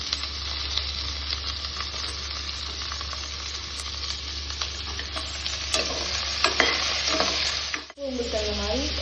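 Onions browning in a pan for rice, a dense close sizzle with frequent stirring scrapes and utensil taps, a brief bump near the end, no voices.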